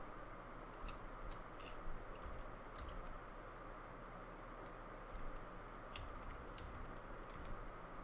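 Soft, scattered keystrokes tap on a computer keyboard while typing Tamil text in Photoshop, faint and irregular clicks over a steady hiss of background noise, with no talking.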